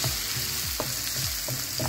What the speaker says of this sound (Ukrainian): На сковорідку викладаємо масло вершкове 40 грамів і розтоплюємо його. І відправляємо сюди цибулю